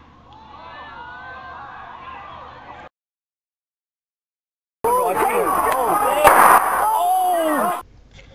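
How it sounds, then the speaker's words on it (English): A single sharp gunshot from a police officer's pistol on a crowded station platform, a brief crack standing out above shouting and crowd noise, with a gap of silence before it. "Within a second, he fires."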